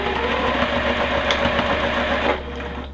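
A sewing machine stitches quilt block pieces in a steady, fast mechanical whir. It runs close and continuous, then eases off near the end with no talking.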